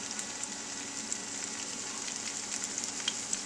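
Butternut squash fritters shallow-fry in hot oil with a steady, fine crackling sizzle, moderately close and even throughout with small pops scattered across the texture.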